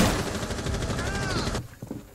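Rapid automatic gunfire is shot through a wall in Rainbow Six Siege, a dense, fast-pulsing clatter that runs without pause for about a second and a half, then cuts off into quiet.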